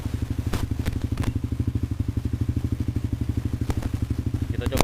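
A motorcycle engine idles with a steady, rapid low thumping pulse, close by, with faint clicks and clatter on top.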